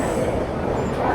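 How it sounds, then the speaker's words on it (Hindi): An Amritsar–New Tinsukia Express train pulls away from platform 2 at Jalandhar City station, giving a steady, close, dense rumble of moving carriages with no clear breaks. "भाई गाड़ी खुल गई है बिल्कुल ऑन टाइम, प्लेटफॉर्म नंबर 2 से जालंधर सिटी से"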